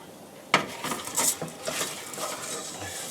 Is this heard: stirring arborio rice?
yes